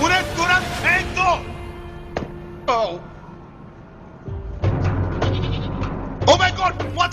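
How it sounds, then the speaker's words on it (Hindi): Small goat bleats in a few wavering cries among people talking nearby in a comedy scene, the bleats close and moderately loud. "ओह माय गॉड, वो छोटी बकरी है जो वायर खा रही है।"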